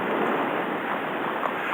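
Wind blows outdoors at onion fields, a continuous broad rushing buffet across the microphone, close and fairly loud with no voices.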